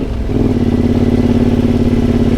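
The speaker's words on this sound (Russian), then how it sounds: "Вентилятор работает нещадно, конечно, на мотоцикле, потому что все время двигаюсь первая, вторая, первая, вторая" A motorcycle climbing a mountain pass in first and second gear gives a loud, close, steady engine drone with a throbbing pulse, swelling after a brief quieter start.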